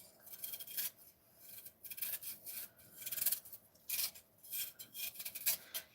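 Fresh ginger is grated by hand for a saucepan of cinnamon tea, giving a series of close, quiet rasping strokes in irregular bursts with brief pauses between them.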